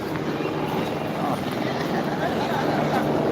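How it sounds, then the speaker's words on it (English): A police helicopter passes overhead on a sunny day near a closed-off road, its steady rotor drone filling the background while people talk nearby. "There's the police helicopter, the blue."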